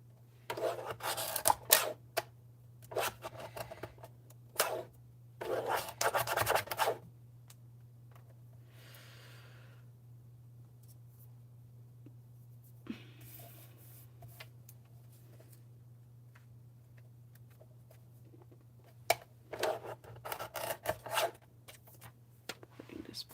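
Acetate sheet being cut by hand, heard as bursts of crisp scraping and rasping strokes near the start and again near the end, separated by a long quiet stretch with faint handling noise.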